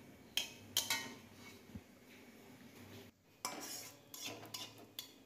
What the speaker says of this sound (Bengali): দুটো তেজপাতা, দুটো শুকনো লঙ্কা আর সামান্য 5 ফোড়ন দিয়ে দেখো নেড়েচেড়ে বেশ কয়েক সেকেন্ড ফোড়ন ভালো করে দিয়ে নেব